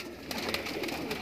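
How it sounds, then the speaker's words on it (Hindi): Soft pigeon cooing in a short burst from a pigeon loft near Mahim Dargah, low murmuring calls against faint background noise, fairly quiet and close. "ये कबूतर देखिए भाई"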